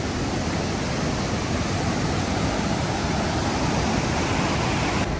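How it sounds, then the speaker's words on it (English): River flowing near Machu Picchu town, a dense, constant rushing roar of water filling the whole span, loud and unbroken with no voices. "We have a beautiful view on this amazing river."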